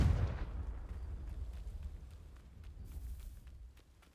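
A Confringo blasting spell explodes in the video game Hogwarts Legacy: one sharp, loud boom at the start that rolls into a low rumbling decay lasting several seconds, with faint crackles trailing off.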